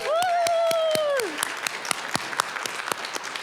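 At a Grand Rapids Community College medical assistant graduation ceremony, a long rising whoop from the crowd opens the clip. Clapping continues after it and gradually loosens into scattered, uneven claps.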